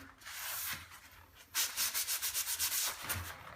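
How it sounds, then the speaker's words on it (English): Sandpaper rubbing over dried emulsion paint on a wall around a plug socket, a faint scuff first, then a run of quick, close, rhythmic back-and-forth strokes, alone with no voices. "Sand down the sides there"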